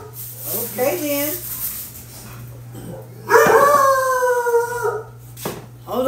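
Dog indoors barking and howling at another dog passing on the other side of the street, loud drawn-out howls with yips, alternating with brief bursts, a steady hum underneath.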